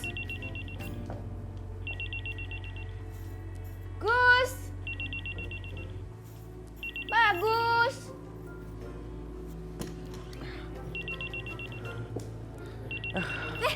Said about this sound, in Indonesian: Telepon kamu bunyi